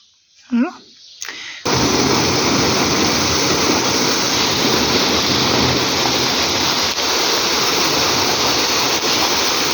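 A powerful tubewell gushes water under high pressure in a steady, loud roaring rush that starts abruptly and fills the scene, following a few brief voices at the start.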